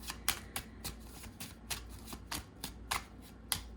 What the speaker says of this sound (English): we're going to cut the deck and get the 9 cards